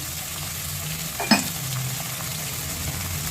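Onions sautéing in a pan with rock salt, a steady close sizzle with stirring and one sharp utensil clink partway through, no talking.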